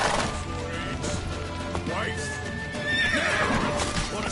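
Horse neighing and whinnying amid hoofbeats in the video game The Witcher III, with a shrill whinny rising over busy combat noise and shouting voices throughout.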